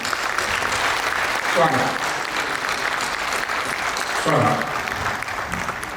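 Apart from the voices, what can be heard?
audience applause welcoming poet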